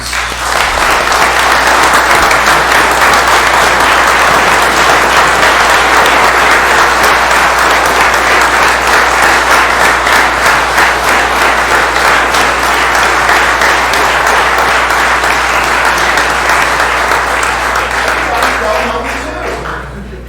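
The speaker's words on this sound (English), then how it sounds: "So another round of applause, please." A room at a township committee meeting gives a long, loud round of applause, many people clapping in a steady unbroken roar that tapers off at the very end.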